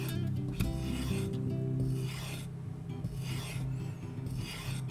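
Kitchen knife blade stropped on a leather strop loaded with polishing compound, giving close, dry raspy rubbing strokes in a steady back-and-forth rhythm with no talking.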